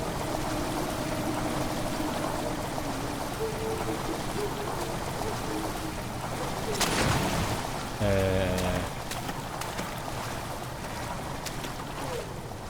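Water rushing into a chamber in the video game Amnesia: The Dark Descent, a steady, dense wash of flowing sound with a sharp splash and a brief ringing tone partway through.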